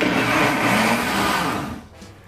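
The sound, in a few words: electric mixer beating pineapple coconut cake batter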